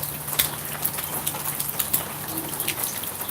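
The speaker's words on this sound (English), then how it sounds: "Yes, it's raining here." Steady rain patters down in cold Oklahoma weather, a continuous hiss of drops with scattered louder splats on nearby surfaces and a faint low hum underneath.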